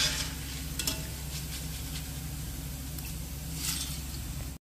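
Poha fries in hot oil for a Diwali mixture with a continuous close sizzle, broken by brief stirring scrapes, and no talking.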